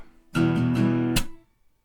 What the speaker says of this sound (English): So 3 downs and a clap